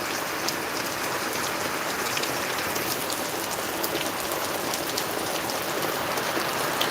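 Heavy morning rain on a farm pours down in a dense, unbroken roar of close pattering drops, steady and loud throughout with no voices.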